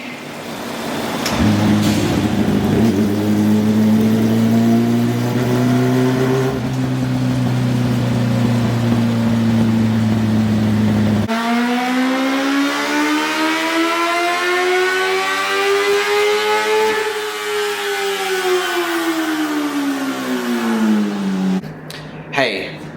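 A car engine revs hard on a dyno in a shop, holding a strong droning pitch, then dropping and climbing again in a long sweeping pull before cutting off near the end.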